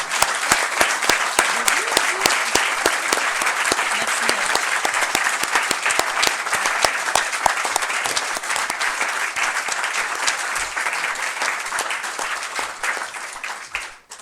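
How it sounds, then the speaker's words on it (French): Warm applause at a town council meeting for an outgoing deputy, a dense, steady round of clapping from many people filling the room, sustained for over ten seconds before fading out. "je vous propose d'applaudir chaleureusement également Bernadette."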